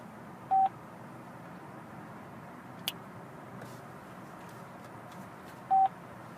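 An OnStar in-car system sounds two short dialing tones several seconds apart while trying to connect a call, over a low hum of the car interior with a faint click in between.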